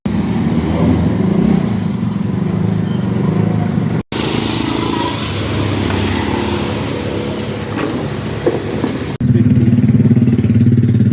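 A Yamaha Mio scooter engine runs close and loud with a steady idling rumble, cuts out briefly, then catches again and settles into a stronger idle; no one speaks.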